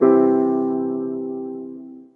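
A single major chord struck once on a keyboard, ringing clearly and decaying smoothly over about two seconds, alone and close.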